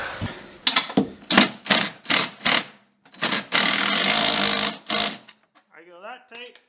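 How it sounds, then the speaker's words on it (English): A bolt on a snowmobile anti-ratchet driver gets run in tight while the other side is held with a wrench, giving a rapid series of close, sharp tool clicks and then a longer grinding stretch, with someone talking. "So I'll hold it with a wrench and we'll go in tight."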